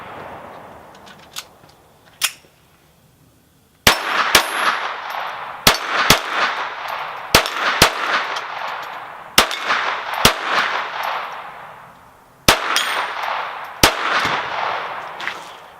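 A Ruger SR22 pistol fires a string of sharp, loud shots outdoors, each crack followed by a ringing metallic ping from steel targets, the shots coming in quick pairs and bursts with short pauses between.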